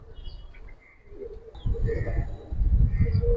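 Pigeons coo inside a cage on a pigeon farm, soft rolling calls recurring over a low murmur of nearby activity, with louder rumbling handling noise in the second half.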